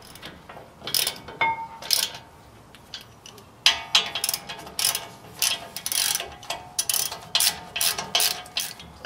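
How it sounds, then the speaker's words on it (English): A ratchet clicks in short quick bursts while tightening thread-locked bolts on a brake caliper mounting bracket of a 2007-13 GM truck front brake, with rattling metallic tool noises and no voices. "we'll just reinstall our mounting bracket"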